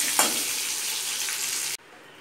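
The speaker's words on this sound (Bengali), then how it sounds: "আলুগুলোকেও ভেজে নেব, আলুগুলোকে সেদ্ধ করাই আছে, ভেজে নেব ভালো করে।" Boiled potatoes fry in hot oil in a pan, giving a loud, even sizzle with a brief clatter near the start before the sound cuts off abruptly near the end.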